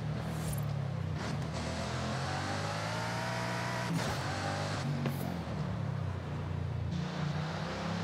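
A 2011 Bugatti Veyron Super Sport engine in Forza Horizon 5 during a track day, a continuous loud drone with rising and falling revs and brief shifts between gears, unaccompanied by talk.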